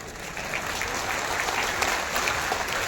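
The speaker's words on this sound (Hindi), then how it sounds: "ताली जोर से नहीं बजा लगा," Continuous applause from a large crowd at a political speech in Bihar, steady and moderately loud, heard from a slight distance.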